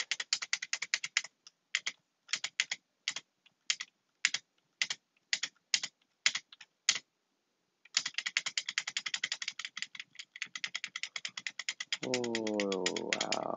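Quiet, close clatter of a computer keyboard: a burst of rapid typing, then spaced single key taps, then another fast run of typing, with a tonal sound entering near the end.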